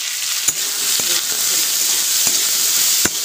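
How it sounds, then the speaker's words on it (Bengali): Boiled potatoes and local chickpeas fry in a whole-cumin and dried red chilli tempering, giving a loud continuous sizzle with a few sharp spoon knocks against the pan, close up with no voices. "ছোকার জন্য গোটা জিরে আর শুকনো লঙ্কা দিয়ে দিলাম। এবার ওটাতে ছোলা আর আলুটা এনে দিলাম।"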